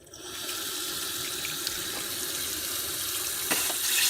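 Tap water runs steadily from a faucet, poured over cooked seven-year-old stored beans to cool them; a continuous close gushing rush with a small splash near the end, no talk.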